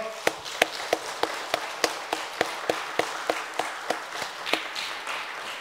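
A small church congregation claps in a steady, fairly sparse rhythm, with distinct individual claps ringing out over several seconds at moderate distance during a Sunday service.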